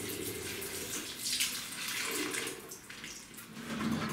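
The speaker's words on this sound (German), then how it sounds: "Danach die Hände unter fließendem Wasser gut abspülen." Running tap water splashes over hands being rinsed at a sink, a soft continuous hiss and patter with slight surges as the hands move through the stream, faint and close with no talk.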